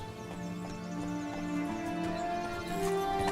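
Roach the horse trotting in The Witcher 3: Blood and Wine, a steady run of clip-clop hoofbeats under a continuous game soundscape of music and ambience, with a brief whinny-like note.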